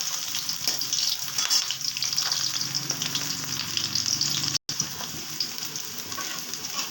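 Okra pakoras sizzle steadily in hot oil in a home kitchen, a continuous close crackling hiss with no talk over it, cut by a brief gap near the end.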